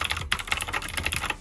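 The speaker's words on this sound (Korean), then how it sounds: "청축이 제가 예전에 그냥 PC방 가면은 항상 이렇게 착착착 거리는 그 소리가 너무 좋아서" Crisp, clicky keystrokes from a Bluetooth mechanical keyboard fitted with Gateron blue switches, typed in a quick, steady patter close to the mic with no talk.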